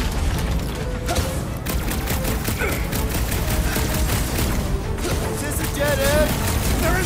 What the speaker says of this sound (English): My guy keeps dodging my shots!